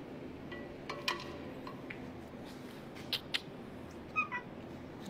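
A cat meows several times at moderate distance in a quiet room, short separate calls spaced irregularly, some higher and thinner than others.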